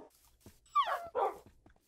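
A tamed wolf pup in the Minecraft video game gives two quick, close barks, one right after the other, with no talking over them.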